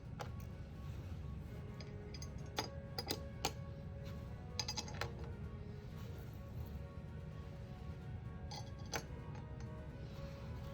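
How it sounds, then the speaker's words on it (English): Small screws dropping into the mounting holes of a dual monitor arm with Samsung monitors, heard as a few sharp metallic clicks and clinks scattered over a low steady hum, close and fairly quiet, with no talk. "Then we'll go ahead and drop the screws in so it doesn't get out of alignment."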